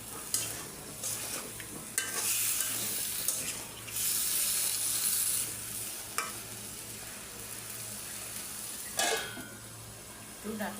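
Taro stems sautéed with spices and green chillies in a pan, a constant sizzle broken by several sharp bursts of spatula stirring and scraping, close by, with no talk.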